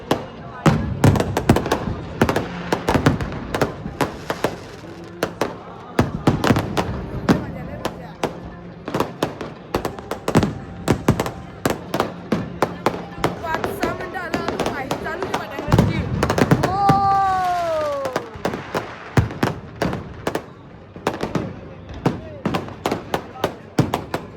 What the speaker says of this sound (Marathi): फटाकड्यांची आतिषबाजी